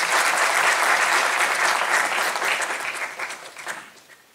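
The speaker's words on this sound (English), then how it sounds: "please welcome him with a good round of applause" A campus audience at VIT in Jaipur applauds to welcome a chief guest, dense sustained clapping filling the hall, loud at first and then gradually thinning and fading toward the end.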